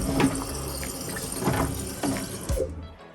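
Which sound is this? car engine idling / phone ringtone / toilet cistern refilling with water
toilet cistern refilling with water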